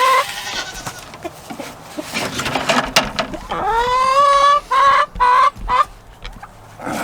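Chickens cluck and squawk in a backyard chicken pen, with several drawn-out, rising calls near the end, close and fairly loud, and no talk over them.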